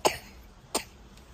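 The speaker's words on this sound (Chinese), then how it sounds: "你还有点咳咳，" A young child coughs twice in a car, two short sharp coughs about half a second apart with a faint third, close and alone in quiet surroundings.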